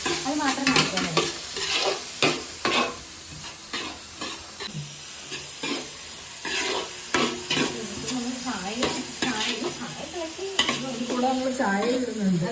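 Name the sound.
carrot and beans frying and being stirred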